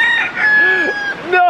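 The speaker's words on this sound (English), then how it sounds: "The first time in my life I've heard a rooster actually like caw." A rooster crows loudly and close by, a drawn-out cock-a-doodle-doo. A brief spoken word sounds near the end.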